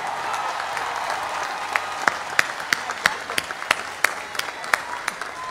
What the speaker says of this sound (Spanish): para ellos pido un gran aplauso,